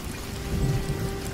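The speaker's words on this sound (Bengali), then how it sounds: "আর দেখছোস না কেমন জোরে জোরে বজ্রপাত পড়তেছে" A thunderstorm with heavy rain pours down steadily, a low rumble of thunder rolling underneath the hiss, with no voices.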